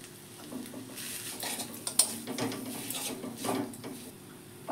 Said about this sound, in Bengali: এবার আমি ডিম ভাজার সঙ্গে মিশিয়ে নেব